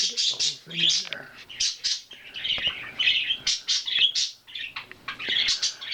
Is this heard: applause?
no